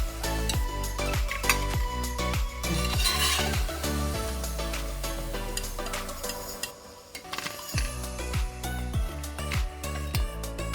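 Fried egg and masoor dal fritters lifted out of a pan of hot oil, with repeated sharp metallic scrapes and clinks of a spatula against the pan over a quiet sizzle.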